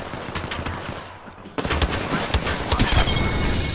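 Rapid gunfire in a shooter video game, dense crackling bursts that grow heavier partway through, loud and continuous with no clear talk over it.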